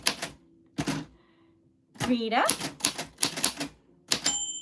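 Manual typewriter keys clacking out names in short bursts, with a bell ding and the carriage sliding along, up close and loud; people talk between the bursts.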